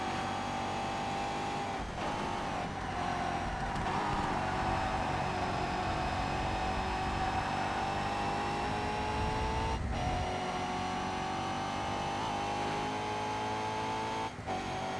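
Race car engines in ToCA Race Driver 3 during a DTM final lap, a loud continuous engine drone with steady whine and shifting pitch, brief dips at gear changes.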